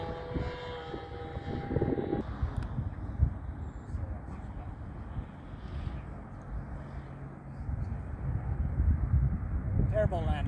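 A radio-controlled model airplane at a lakeside club fun fly, its engine drone steady and fairly near before easing off as it comes in to land, with people talking throughout.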